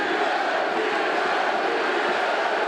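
Crowd at a UFC fight chanting for Diaz, a broad, steady roar of many voices filling the arena, with no single voice standing out.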